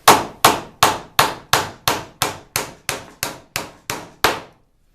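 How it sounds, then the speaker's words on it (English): A hammer drives nails into wood while building an Edwardian-style garage door: twelve sharp, evenly spaced strikes in a steady rhythm, loud and close, each with a short ringing decay, then silence. "I've jumped to the other end, tied down a piece, and I'm ready to nail her in."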